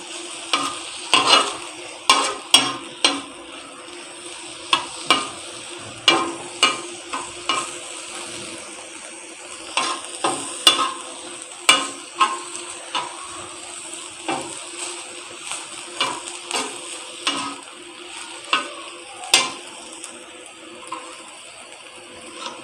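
Minced chicken keema frying in a pan for shawarma, a soft steady sizzle broken by loud, rhythmic scraping and stirring strokes of a spoon against the pan, close by and with no talk.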